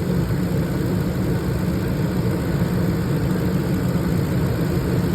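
A 2004 Ford Expedition engine runs at a steady idle, a continuous low droning rumble heard close with no speech.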